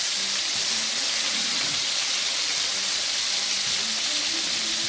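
Steady hiss and sizzle of cube steak frying in a hot pan, continuous and fairly loud with no voices.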